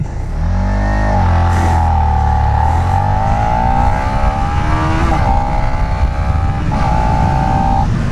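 A Suzuki SV650A motorcycle pulls hard in first gear, its engine note climbing steadily in pitch through a loud, close acceleration. A couple of brief dips mark throttle changes, and there is no talking.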